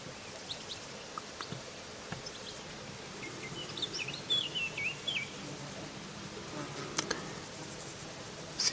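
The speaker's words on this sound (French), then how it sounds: "Je viens de repérer une picrièche écorcheur, un mâle qui va et vient sur une haie." A male red-backed shrike calls from a hedge, with faint, brief chirps scattered over quiet outdoor ambience, including a short run of thin notes in the middle.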